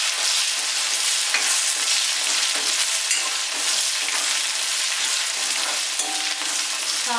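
Green chillies fry in hot ghee for a raw turmeric curry, giving a loud, constant close sizzle with occasional clinks and scrapes as they are stirred.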